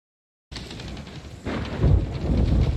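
Thunder from a lightning strike in the pirate game Sea of Thieves breaks out of silence with a loud crack, then rolls and swells into a deep, heavy rumble with rain-like hiss.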